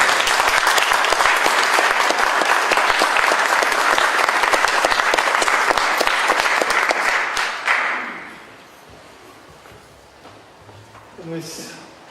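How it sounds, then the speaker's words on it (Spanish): An audience at a lecture on Saturnino Herrán and Ramón López Velarde gives a loud, dense round of applause for about eight seconds. It then dies away, and a few faint voices are left in a quieter room. "Un aplauso para mí."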